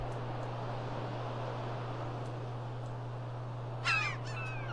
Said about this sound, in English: Oh, damn seagulls.